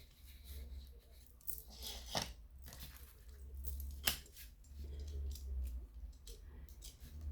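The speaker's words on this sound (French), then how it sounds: "Alors, je vais déjà couper" Scissors snip through paper or card while a small craft pouch is assembled, giving a few sharp, separate cuts near the microphone over a low steady hum.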